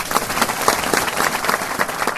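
Theatre audience applauding before a stage play begins, a dense, loud wash of clapping from a full house that carries on steadily with no speech over it.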